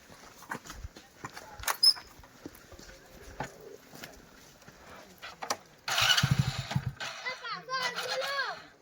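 A motorbike engine is kicked into life partway through, sputtering and then settling into a steady rumble, after casual talk and background voices.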